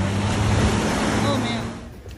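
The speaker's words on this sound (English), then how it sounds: "Those are big waves." Big ocean waves play through a sensory room as a loud, steady surf roar, full and close, easing off slightly toward the end.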